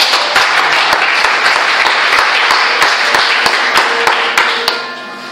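A church congregation applauding to acclaim the Lord, with steady, loud, close clapping from many hands and scattered sharp individual claps throughout, easing slightly near the end.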